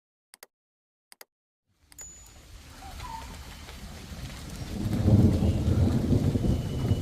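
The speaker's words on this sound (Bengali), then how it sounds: "সাথে গুড়ি গুড়ি বৃষ্টি হচ্ছে এবং ঘন ঘন বিদ্যুৎ চমকাচ্ছে।" Drizzling rain during a Kalbaishakhi thunderstorm: a few faint clicks over near silence, then a broad rain hiss that swells steadily louder, with a low rumble building toward the end.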